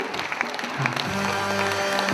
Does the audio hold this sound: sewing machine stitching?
no